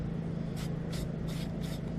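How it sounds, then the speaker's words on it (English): Tire shine sprays onto a car's scraped front splitter in four short, faint hissing bursts, evenly spaced over a steady low background hum. "So spray it on there, let it soak in, rub it off"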